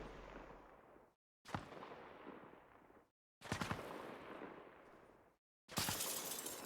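Gunfire in the video game Arma Reforger comes in loud, harsh crackling bursts, three of them separated by short moments of dead silence, with no one talking.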